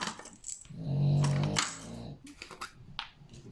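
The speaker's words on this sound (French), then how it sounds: "vous les entendez bien, mes chiens" Dogs growling indoors, a low rumbling growl swelling for about a second amid clicks, rustles and small clatters, fairly faint overall.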